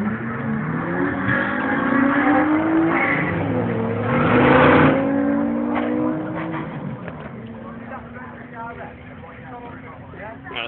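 A Nissan Skyline race car accelerates hard down the drag strip at York Raceway, its engine note rising and sweeping through gears, loud and close, with a crowd and announcer's voice running underneath.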